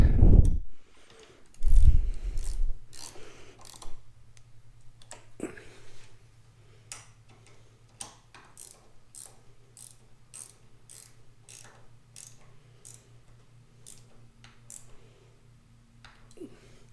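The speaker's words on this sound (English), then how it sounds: "Okay, let's tighten them down." Parts of an RCBS lubrisizer being tightened down: a couple of heavy knocks, then a long series of close metallic ratchet clicks and ticks with a faint mechanical hum underneath.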